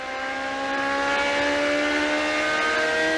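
IndyCar race cars run side by side at about 165 mph, their engines making a loud, steady, high-pitched scream that swells slightly as they pass close by.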